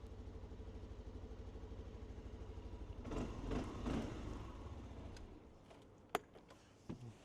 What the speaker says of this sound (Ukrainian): заведу, зараз послухайте як працює